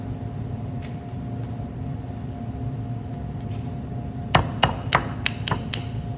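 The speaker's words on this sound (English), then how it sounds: "then using a rubber mallet, I'm going" A rubber mallet knocks parts together, a quick series of about six sharp, close taps coming near the end over a steady low background hum.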